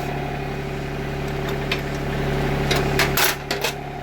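A tractor's engine hums steadily at low revs as it slowly pulls away from a detached RK 24 backhoe, with a few light metallic clinks and knocks near the end.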